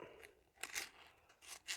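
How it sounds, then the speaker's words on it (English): Several quick, crisp snips from small scissors cutting Gear Aid Tenacious sealant repair tape, close by, in an uneven rhythm of three or four cuts with short pauses between. "These little scissors are cutting good."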